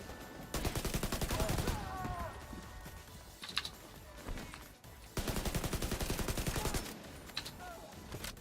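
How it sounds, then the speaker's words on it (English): Video game gunfire crackles in two long automatic bursts with single shots between them. The bursts are fairly faint and rapid, and a soft voice shows up now and then. "Hearing gunshots."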